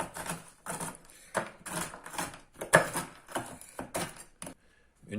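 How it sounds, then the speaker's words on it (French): A knife coarsely chops dried fruits and nuts for a frozen nougat, making a steady series of sharp, close knocks and thuds with short gaps between strokes. "Et puis on va couper nos fruits secs. On va les détailler grossièrement en plus petits morceaux."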